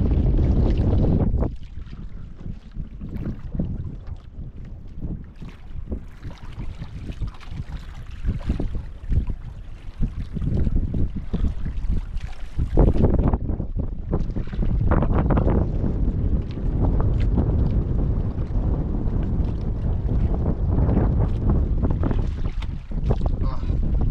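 Strong amihan northeast monsoon wind roars at sea around a small boat, buffeting the microphone in loud, gusting bursts that continue steadily.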